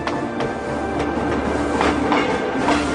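A train running along a railroad, with a steady, continuous rumble and rolling wheel noise throughout, close and moderately loud with no voices.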